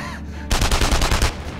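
Rapid bursts of automatic gunfire from the video game Enemy Front, loud and close, following a brief quiet lead-in and sustained for about a second.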